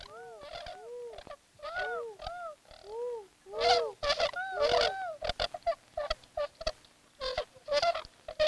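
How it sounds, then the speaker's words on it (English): A flock of whistling swans calls with rising, yodel-like honking whoops, overlapping notes coming in irregular bursts, some near and loud, others softer. "The whistling swan's voice is often compared to notes of a Swiss yodel."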